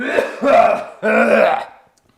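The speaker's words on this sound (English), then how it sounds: "coughs like an ill person" Two rough, voiced coughing bursts from a person, close and fairly loud, followed by a brief fade into quiet.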